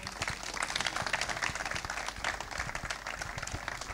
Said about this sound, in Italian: li accogliamo con un applauso